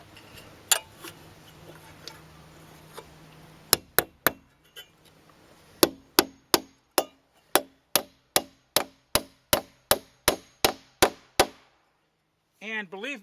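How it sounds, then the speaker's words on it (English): A hammer drives a nail into a metal joist hanger: a few scattered blows, then a steady run of about fifteen evenly spaced sharp strikes, close and loud, with no talk. "So I just go ahead and drive this other second nail in here."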